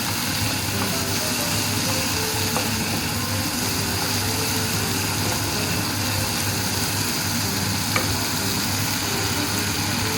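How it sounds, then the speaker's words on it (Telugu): Onion, ginger, garlic, coriander and mint fry in a pan for tomato chutney, giving a steady, even sizzle that runs unbroken and close throughout, with no talking. "ఇప్పుడు కొత్తిమీర, పుదీనా అన్నీ వేస్తున్నాం కదా, బాగా వేగని."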